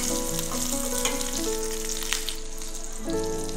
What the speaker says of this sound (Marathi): मिरच्या मस्त फ्राय झाल्या।